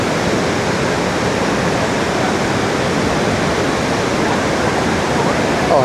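Montmorency Falls in Quebec roars as a constant, dense wash of falling water, loud and unbroken throughout without any other prominent sounds.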